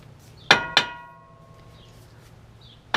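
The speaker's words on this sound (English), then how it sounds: "So you can use a hammer." A hammer strikes the wheel bearing hub of a 2014-2019 Toyota Yaris: two loud, ringing metallic clangs in quick succession, then a third blow about two seconds later, each leaving a bright ring that fades.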